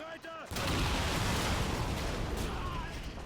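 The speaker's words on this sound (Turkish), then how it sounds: "Yanma sesleri, patlama sesleri." A sudden loud roar of explosions and rumbling gunfire in the video game Call of Duty 2 erupts after a short quiet moment, sustained and dense like a battle raging close by.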